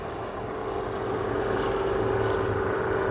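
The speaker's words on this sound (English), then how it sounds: "I had a plane flying right over me just now." A propeller airplane passing overhead, a steady broad drone that swells slightly louder over a few seconds, with no talking.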